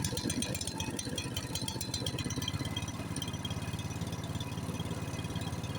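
A Honda snowblower engine idles steadily on choke while warming up in extreme cold, a close, loud, even mechanical chug with a fine rattle running unbroken throughout.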